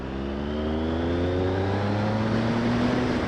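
Revving engine of a Triumph Speed Triple R motorcycle, a loud, close, rising drone as the engine climbs steadily in pitch over a few seconds, with no talk.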